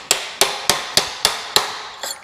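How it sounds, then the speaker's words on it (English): Six sharp, evenly spaced metallic smacks, then a softer seventh, as a 5-pound hammer pounds a pipe while replacing a BMW E46 325xi driveshaft center bearing. The strikes are close and loud, with no talking. "you start pounding on it with a 5-pound hammer"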